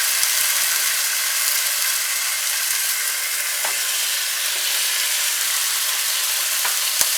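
Food sears in a hot pan during a home dinner cook, a steady close broadband sizzle running unbroken throughout, with a few faint low knocks early on and a soft clink near the end.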